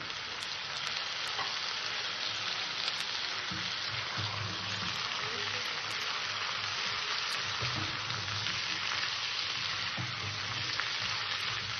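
Ivy gourd sizzles in spice paste with a fish head, a steady close frying crackle and hiss with occasional soft stirring scrapes throughout, no talking.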